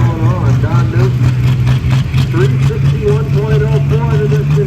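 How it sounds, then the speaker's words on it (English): A pulling tractor's engine runs loud and steady at a tractor pull, with a constant low drone and rough mid-range growl throughout, varying slightly in pitch with no pauses. "The Tier Attitude Tractor, Newton's got her going on"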